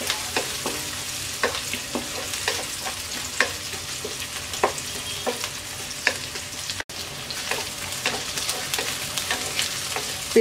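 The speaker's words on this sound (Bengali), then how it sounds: "পেঁয়াজটা হালকা ভেজে নেব।" Chopped onions sizzle steadily in a pan for a papaya bhaji with eggs and lentils, a constant close frying hiss broken by regular clinks of a spatula stirring.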